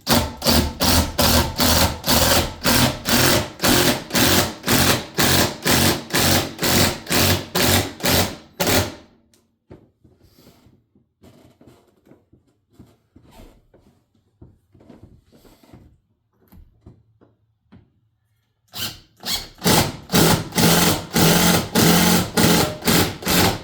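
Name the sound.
impact driver driving GRK structural screws into 4x4 support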